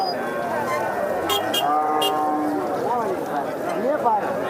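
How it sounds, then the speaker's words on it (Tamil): Jersey cattle at a roadside stretch of a native cattle market, with several drawn-out moos rising and falling over a busy crowd murmur and general market noise, plus a few short horn-like honks nearby. "ஜெர்சி மாடுங்கள்லாம் பார்க்கலாம் பாருங்கள்"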